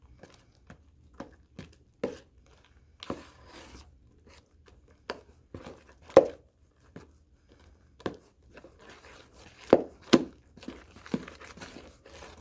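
Homemade slime being stirred gives sparse wet clicks and squelches, irregular and close, with quiet gaps between them and no talking.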